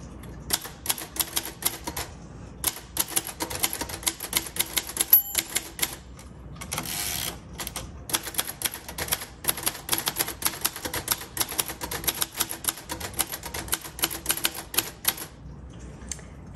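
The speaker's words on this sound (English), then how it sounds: "this typewriter loves a nice, steady, consistent pace" A red 1956 Royal Quiet Deluxe typewriter is typed at a steady, even pace, with crisp keystrikes close up and a few short pauses between runs of clacks.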